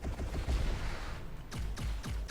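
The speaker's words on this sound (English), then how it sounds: "missile barrage is badass" A missile barrage in the space game Stellarum, a cluster of booming, rumbling explosions, with several sharp distinct blasts toward the end.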